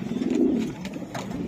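Racing pigeons at a pigeon farm giving low, throaty coos, close and continuous through a short stretch.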